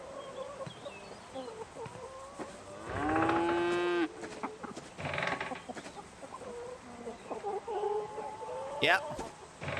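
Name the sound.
cow mooing in a video game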